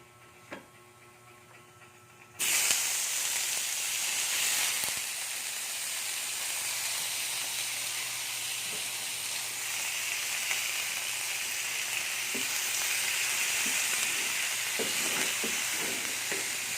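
Chicken drops into a hot pan and at once bursts into loud, steady sizzling and frying hiss that continues unbroken, with a few small ticks and clinks near the end.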